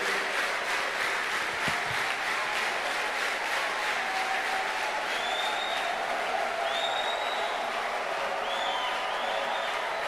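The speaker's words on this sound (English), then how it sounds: "Clap for Jesus." Church congregation clapping together in a large hall, a continuous, even patter of many hands at moderate distance, with a few faint voices and sustained tones in the background.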